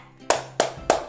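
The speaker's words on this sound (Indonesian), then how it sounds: "Nah, yang keempat ini namanya tepuk sepeda." Three sharp, evenly spaced hand claps ring out close up in a children's bicycle clapping game, each a crisp snap against a quiet background.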